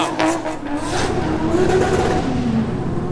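A Toyota GT86 drifts nearby, its engine revving with rising and falling pitch over tire noise, loud and continuous throughout.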